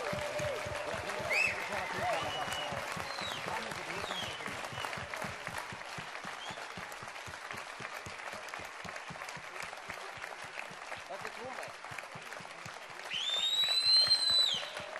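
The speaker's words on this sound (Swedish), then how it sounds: "Ge dem ännu mer applåder" A congregation at a live church evening gathering applauds, a long, steady stretch of crowd clapping that swells louder near the end, with faint voices and whistles mixed in.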